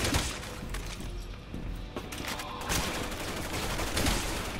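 Gunfire in the video game Resident Evil 6, a dense stretch of shots and booming impacts layered over game music and ambience, continuous and loud throughout.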